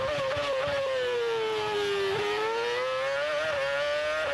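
A 2006 Formula One car at the Australian Grand Prix revs at very high RPM, a loud, sustained shrieking engine note that sags and climbs again as it passes, with no talk.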